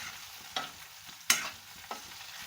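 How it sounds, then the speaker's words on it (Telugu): Prawns frying in a pan with masala over low to medium flame, a soft continuous sizzle broken by three sharp scraping stirs of a utensil, close and with no voices. "ఈ విధంగా బాగా కాస్త రోస్ట్ అయ్యే వరకు మనం వీటిని ఫ్రై చేసేసుకోవాలి."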